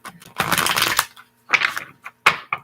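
Tarot cards shuffled by hand, a close riffling flutter followed by several short, crisp card-snapping bursts in quick succession, alone without talk.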